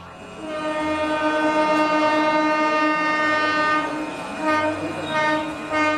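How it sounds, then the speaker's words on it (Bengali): A train horn blares loud and sustained over rumbling rail noise as a train pulls into a station, used as a sound effect in a Bengali village ghost audio story. It holds steady for about six seconds with no voices. "ট্রেনটা এসে দাঁড়াতেই"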